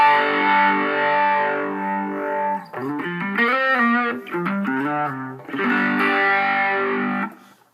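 Distorted electric guitar through a Behringer PH-9 phaser into a Marshall-style amp tone, played on the neck pickup via a GDI-21, sustained chords with sweeping phase, a busier melodic run in the middle, then ringing chords again, loud and alone.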